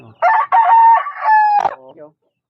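A Sanford yellow-legged hatch rooster crows once, close and loud, giving a full multi-part crow about two seconds long that ends in a falling tail, followed by silence.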